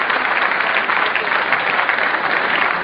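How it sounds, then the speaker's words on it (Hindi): Applause fills a hall welcoming Nida Fazli, a dense, loud, sustained wash of many hands clapping without break and no speech over it. "दोस्तों, इस हॉल में पुरजोर तालियां उठनी चाहिए निदा फाजली के लिए।"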